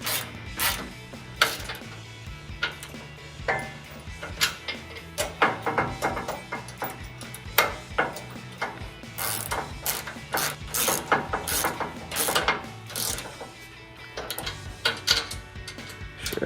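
A ratchet wrench torques skid plate brackets on a Barricade HD modular front bumper of a 2019-2024 RAM 1500, giving rapid bursts of metallic pawl clicking in repeated strokes, close and loud with brief pauses between.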